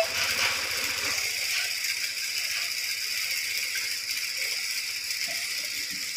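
Sewing machine stitching a straight seam on a sleeve, a steady fast mechanical rattle and whir running continuously at moderate loudness with no talking.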